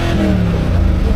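A new Mercedes car engine revs up close, a loud short mid-pitched roar that rises in pitch over about a second, with no speech over it.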